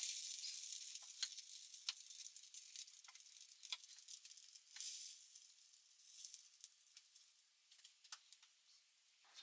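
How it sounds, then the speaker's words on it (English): Onion gravy with dark soy sauce bubbles and sizzles in a pan on raised heat, a soft continuous hiss broken by small popping bursts, close and fairly quiet, with no talking. "I'm just going to turn it up a little and get that back to bubbling."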